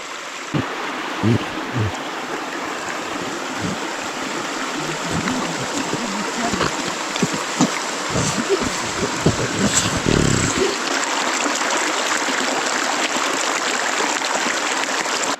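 A mountain river rushes through the Carpathian forest. The broad, steady roar of flowing water sounds close and continuous, with scattered knocks and footstep-like thumps in the first part.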